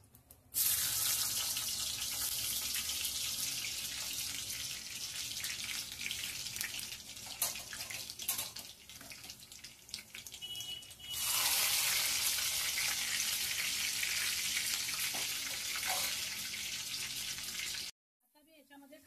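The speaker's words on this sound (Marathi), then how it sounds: "आता आपलं तेल तापलेलं आहे। या तेलामध्ये मी सर्वप्रथम" Garlic fries in hot oil in a kadhai, giving a broad, rushing sizzle. It swells, dips briefly midway, then surges louder again before cutting off sharply near the end.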